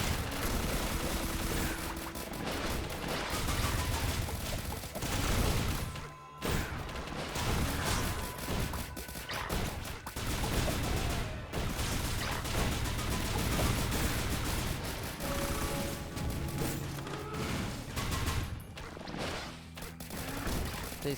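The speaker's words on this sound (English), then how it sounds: "whenever I interact with something, I throw a bunch of rockets" Rockets launching again and again in the video game Risk of Rain, dense bursts of explosive whooshes and blasts filling the whole stretch under game music, with a brief dip partway through.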